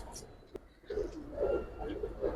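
Giribaz pigeons coo in low, soft, rolling bursts, close by, over faint background noise with a brief click.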